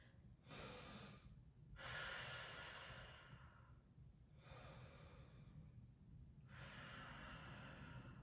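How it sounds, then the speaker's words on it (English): Slow, deep yoga breaths during a prenatal session, alternating long airy inhales and exhales in a steady rhythm, close and quiet with no talking. "We're going to do 5 breaths."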